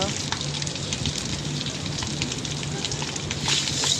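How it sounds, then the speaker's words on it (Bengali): Goat or beef being sautéed down in a pot, a steady close sizzle and crackle that runs without a break for several seconds. "এই যে আমার গুস্তটা কষানি হয়ে গেছে, তারপরও কিনার দিয়ে লেগে লেগে যেতেছে, তো ভালো করে কষে নিব।"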